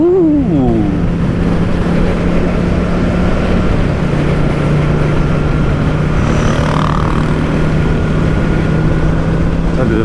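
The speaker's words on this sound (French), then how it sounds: "Le vacarme qu'elle a fait la voiture." A loud, steady engine drones continuously, close and powerful, with a rising whine at the start.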